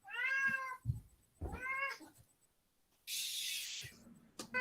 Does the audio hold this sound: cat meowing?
yes